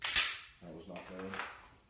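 A pistol's trigger snaps once in dry fire, a single sharp, close click, followed by someone speaking briefly.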